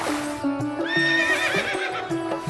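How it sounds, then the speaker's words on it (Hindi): A horse in a cartoon moral story gives a drawn-out, wavering neigh with a few hoof clip-clops, set over soft background music and with no speech. "घोड़े को खोलकर बाहर लाए।"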